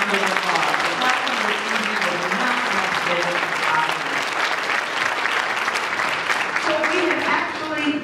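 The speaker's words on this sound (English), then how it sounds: "Please let's give all of our sponsors a warm round of applause." Gala guests give sponsors a warm round of applause at a youth empowerment awards event, steady dense clapping from a large crowd that carries on for several seconds without a break.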